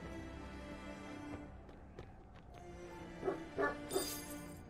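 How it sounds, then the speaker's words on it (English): A dog barks three times at mid distance in the dark fantasy video game Vigil: The Longest Night, short sharp yelps rising over low ambient rumble and faint game sounds. "There's a dog somewhere here."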